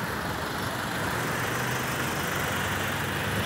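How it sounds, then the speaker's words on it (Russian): A delivery motorcycle's engine on a street in Korea, a steady, continuous droning rumble close by with no breaks or pauses across the whole stretch. "Вот мотоцикл, наверное, какая-то доставка."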